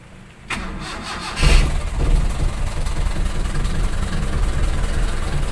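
Toyota Kijang engine cranks briefly and catches after its spark plug cables were replaced, then settles into a loud, steady, slightly rough idle close by, with no talking.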